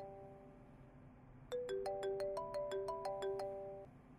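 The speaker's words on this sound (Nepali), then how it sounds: "फेरि कसको फोन आयो?" A mobile phone ringtone starts after a quiet lead-in and plays a quick, bright melodic run of repeated electronic tones that sounds fairly close and steady before cutting off.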